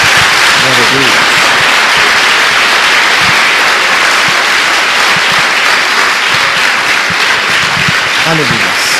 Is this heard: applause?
yes